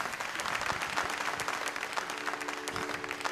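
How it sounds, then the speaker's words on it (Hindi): An audience at an official event gives sustained, even applause to welcome a speaker, heard from a moderate distance with a faint tonal hum beneath the crowd. "विद रिस्पेक्ट और ज़ोरदार तालियों के साथ"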